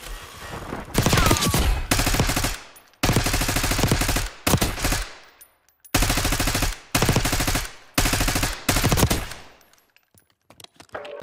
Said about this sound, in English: Enemy turret.